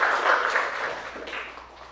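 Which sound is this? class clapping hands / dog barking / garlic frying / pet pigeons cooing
class clapping hands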